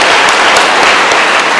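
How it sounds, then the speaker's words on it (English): An audience at a town hall awards ceremony for top performers and achievers applauds: dense, loud, continuous clapping that fills the whole short stretch with a steady roar of hands. "Shall we clap for that?"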